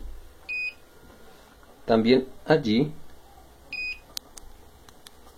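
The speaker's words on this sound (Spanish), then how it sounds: "el sensor de movimiento, el cual nos hace ese bip que indica que me estoy moviendo" A motion sensor on an electronics project board gives two short, identical electronic beeps a few seconds apart, clear and close in a quiet room, with someone speaking briefly between them.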